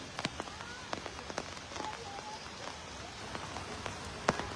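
Continuous rain falls during Jhelum flooding in Kashmir, a faint, steady patter broken by scattered sharper drops hitting nearby surfaces.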